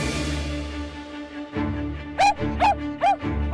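A trick-performing dog gives three short, sharp barks in a quick rhythm near the end, close and loud over a steady background hum.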